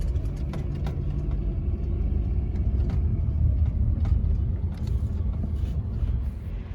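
A Honda Element driving on a paved road near Quartzsite, Arizona, a steady low engine and road rumble heard from inside the car, continuous and moderately loud with faint clicks over it.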